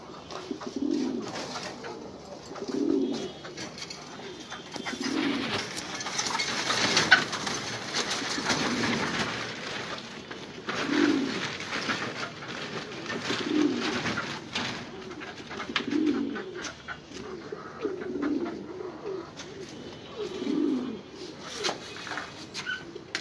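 Pigeons coo in soft, low, rhythmic bursts that repeat every couple of seconds, close by, with faint background noise and no talking.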